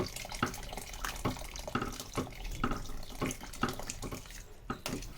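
Hot water runs and splashes in uneven bursts as it is poured into a pot of nombu kanji rice porridge, with faint clinks in between; no voices.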